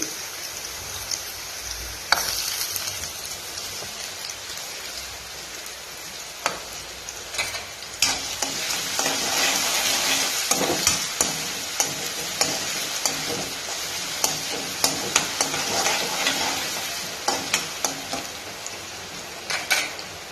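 Chopped carrots fry in a pan for a home-cooked lunch, giving a steady broad sizzle with scattered sharp crackles and stirring scrapes, close and continuous, with no talking.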